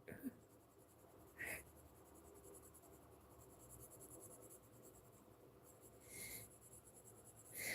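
Faint, close scratching of a yellow colored pencil on a coloring-book page, steady shading broken by a few brief, sharper strokes in a quiet room.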